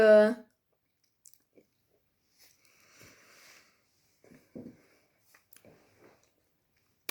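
Quiet, sparse mouth sounds of someone eating a spoonful of a spread: a few faint chewing clicks and soft smacks scattered over several seconds, with a short vocal sound at the start.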